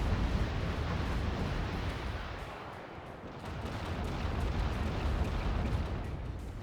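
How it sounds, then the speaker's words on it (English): A rocket barrage in Act of Aggression pounds away as a dense, continuous roll of explosions and rumbling blasts, loud and sustained, dipping briefly before building again. "I'm going to get a rocket barrage off"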